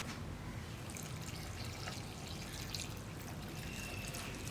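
Hot water poured over cut vegetables in a pressure cooker for a Kerala-style potato curry, a steady broadband trickling and splashing that runs continuously for several seconds at moderate, close range.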